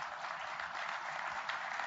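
Audience applause at an anniversary commemoration event, a steady, blended roar of clapping heard from a distance, uniform and unbroken from start to finish.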